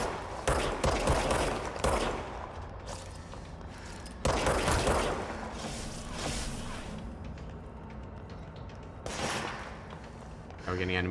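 Gunfire from the game Control: rapid bursts of shots in several clusters separated by brief lulls, moderately loud with mechanical game sounds between, while a person talks.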